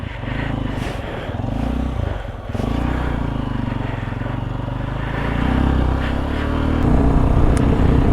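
A Hero Xpulse 200 motorcycle rides along a road through Ladakh toward Leh, its engine droning steadily up close with a slight rise in pitch near the end, wind rushing over it.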